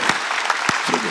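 A church congregation bursts into loud clapping during a Sunday worship sermon, a dense wash of hands sounding for about a second with a few sharper claps standing out.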